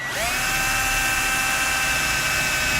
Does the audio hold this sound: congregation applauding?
no